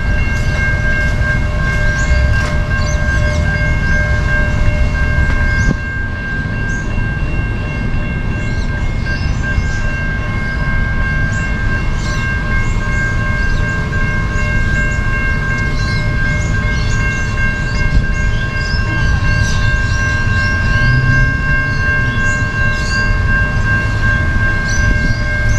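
An electric passenger train heading to Adelaide rumbles past Salisbury railway station steadily and loudly, with a sustained high electric whine and faint rhythmic clatter of wheels on rails.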